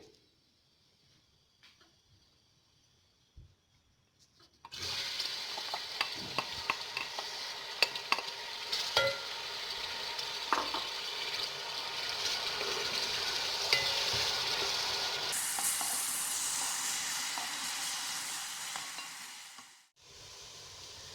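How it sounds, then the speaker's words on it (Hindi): Sliced onions hit hot oil for a chicken tikka biryani and break into a steady, loud sizzle after a few quiet seconds, crackling evenly with faint stirring before cutting off near the end. "सबसे पहले हम ऑयल के अंदर प्याज को फ्राई करेंगे"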